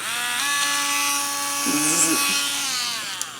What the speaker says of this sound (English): got this drill meant for acrylic nails, and I used it for my acrylic nails a few times, but mostly I just used it for drilling holes in pots